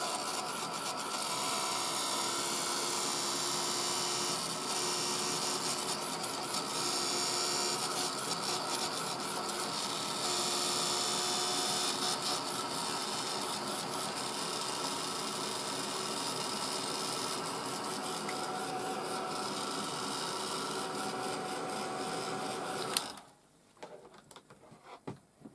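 A heat tool blowing a steady, close rushing hiss over wet craft shimmer powders, running evenly for about twenty-three seconds before cutting off abruptly into near quiet.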